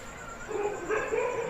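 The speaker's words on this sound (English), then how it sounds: "Dogs prowl the village streets." Dogs bark and yip along Indian village streets at night, a few overlapping calls at moderate distance over a low, steady background hum.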